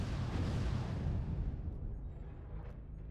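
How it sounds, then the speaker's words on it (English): Missile volley launched in the video game Mechwarrior Online, an LRM-20 firing a flight of fifteen missiles and then five, heard as a loud, dense rumbling roar that tapers off slightly toward the end, with no voices. "This will be the LRM-20. So what you'll see here is I'll get a flight of 15 missiles and then 5."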